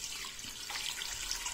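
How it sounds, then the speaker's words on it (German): Water from a tap pours into a cooking pot holding a pig's foot, a continuous close splashing rush with no pauses over its short length. "Ich werde hier jetzt Wasser dazugeben,"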